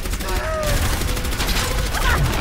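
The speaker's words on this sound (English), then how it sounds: "that turret's firing" Rapid, relentless gunfire from a turret in an Overwatch match at Eichenwalde, a loud continuous stream of shots with faint in-game effects mixed in.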